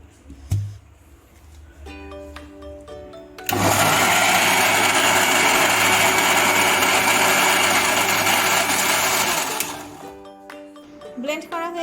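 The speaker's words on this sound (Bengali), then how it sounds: "এখন ব্লেন্ড করব এটাকে।" Kitchen blender whirring loudly and steadily for several seconds as it blends mango and sugar for homemade mango ice cream, with brief quieter kitchen sounds before and after the run.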